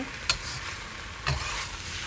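Korean fish cake and pork belly stir-fried in a wok give a continuous close sizzle, broken by two scraping stir strokes about a second apart, with no talking.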